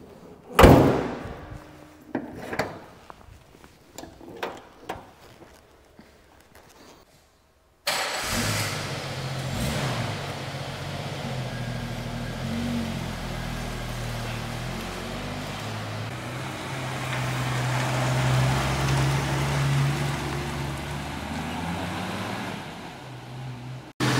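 A 1989 Jeep Wrangler YJ Islander with a five-speed manual box: door slams and clunks, then the engine cranks, fires and settles into a steady, loud idle that runs on close by.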